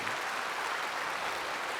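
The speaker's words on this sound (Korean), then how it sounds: "여러분 다시 한번 박수 한번 합시다" A church congregation applauding during a service, steady dense clapping from a large crowd, distant and fairly faint, with no talk.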